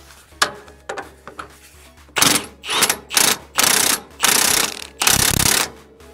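Ratchet wrench with socket clicks loudly and close during maintenance on a Bergmann 3140 dumper, a short burst of clicks followed by several longer rapid ratcheting strokes in a steady rhythm.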